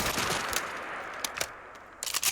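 An R-Series rifle with a rapid automatic receiver firing in Fallout 4: short bursts of fast cracking shots, an early volley followed by a quieter stretch and sharp clusters of shots near the end, close and punchy.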